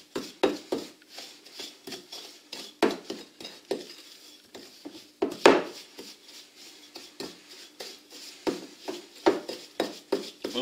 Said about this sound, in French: je vais bien mélanger mon beurre avec ma vergeoise